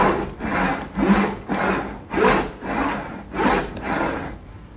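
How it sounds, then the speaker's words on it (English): Someone sawing wood with a hand saw, five loud, close, rhythmic back-and-forth rasping strokes with brief pauses between, alone without talk. "Inside, he can hear the sound of someone sawing"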